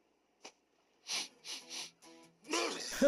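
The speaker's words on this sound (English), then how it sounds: "Manectric, the flag makes you sneeze?" Manectric, a Pokémon, sneezing after sniffing a scented flag: a short sniff, then several breathy nasal bursts, ending in a louder sneeze with a voice coming in.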